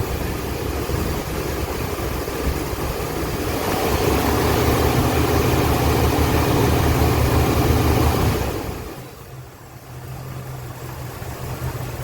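The engine of a 1979 Lincoln Continental Town Car runs at a raised idle, a steady low rumble that swells a little in the middle and then settles back down.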